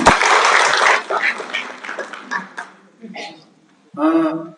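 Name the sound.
audience applause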